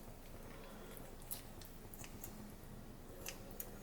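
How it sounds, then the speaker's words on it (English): Kitchen shears snip through soft cooked meat for menudo, a handful of faint, quick cuts scattered over a low kitchen background with no voices. "just take some scissors, some shears, and cut her down"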